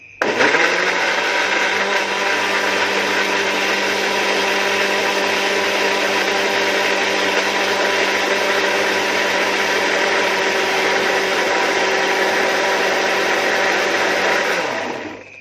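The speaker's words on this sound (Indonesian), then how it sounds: "Selesai di blender" A kitchen blender grinds ingredients for a breakfast dish made from leftover rice, with fish among them. The motor runs loud and steady for about fifteen seconds, then stops abruptly.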